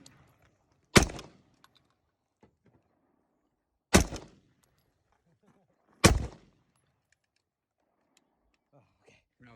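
Three sharp, loud handgun shots ring out at a shooting range, spaced a few seconds apart, each followed by a short echoing decay, with quiet movement and faint background noise in between.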